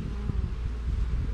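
Honeybees buzz around an opened hive that appears to have swarmed, a close, dense, steady hum with small bumps and rustles throughout a very short stretch.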